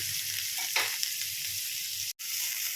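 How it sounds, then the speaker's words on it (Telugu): Onions, curry leaves and green chilies fry in oil for a tomato curry, a loud, close, steady sizzle with a brief stir in the middle and a momentary cut-out near the end. "ఇలాగా గోల్డెన్ బ్రౌనిష్ వచ్చేంత వరకు బాగా వేయించుకుందాము"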